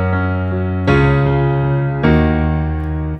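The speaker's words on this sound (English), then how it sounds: "I'm going to leave you with a really nice theme for Nick Fury." Orchestral score music forming the Nick Fury theme from Spider-Man: Far From Home, with sustained brass-like chords that swell in two distinct entries, loud and full with no voices.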